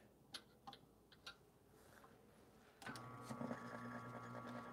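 A single dose coffee grinder fitted to an Atom 75 starts up after a few faint clicks and whirs steadily for the remaining seconds, a quiet close motor hum.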